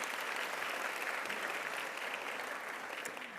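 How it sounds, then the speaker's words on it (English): Steady, dense applause from a luncheon crowd, heard at a distance and fairly faint, holding an even wash of clapping throughout. "Again, another round of applause."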